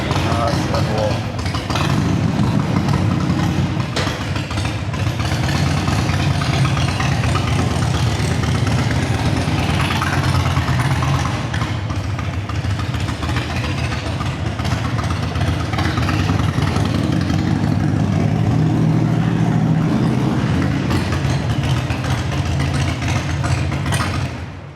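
An older Harley-Davidson XL1200 Sportster, 1200cc, idling on choke while warming up, a loud steady low rumble with uneven throb running throughout, with someone talking over it.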